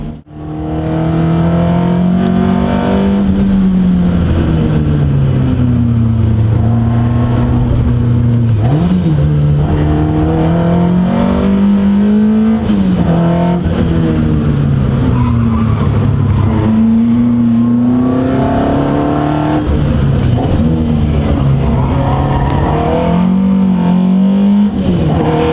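Alfa Romeo GTA R 290 engine pulling hard under acceleration, a loud, close, continuous roar whose pitch climbs and dips through gear changes for the whole stretch, with no talk over it.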